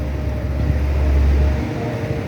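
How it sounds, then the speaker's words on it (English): A 2018 Honda CR-V accelerating gives off a steady, airy hiss over a low engine drone, continuous and fairly loud. "there is this sound that you hear as if there's air which is blowing"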